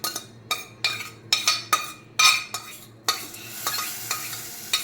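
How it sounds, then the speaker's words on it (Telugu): Poppy seeds dry roast in a pan, stirred with a spoon in a run of sharp, close scrapes and clinks about every half second, then settling into a softer continuous rustling sizzle. "గసాలు నేను డ్రై రోస్టే చేసుకుంటానండి"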